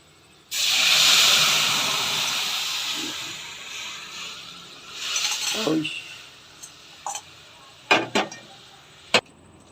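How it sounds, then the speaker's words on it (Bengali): Lentils with a little turmeric poured into a hot pan, where they burst into a loud steady sizzle that gradually fades, followed by a few scattered clinks and knocks. "এবার এই ডাল ঢেলা দেবো"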